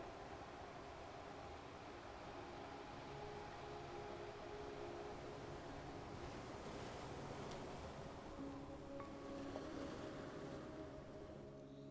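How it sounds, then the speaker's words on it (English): Ocean surf washes in a steady, continuous roar of breaking waves, heard faint and distant without any talking, with a soft wind-like hiss running throughout. "You are listening to the sound of the surf."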